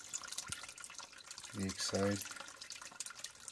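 Water from a sump pump discharging out of a foundation drain, a faint trickling, splashing flow heard steadily at low level, with someone speaking briefly over it.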